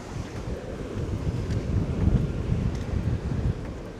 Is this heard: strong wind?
yes